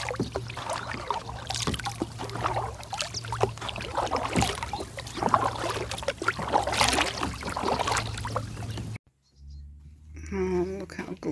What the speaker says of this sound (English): Go paddling.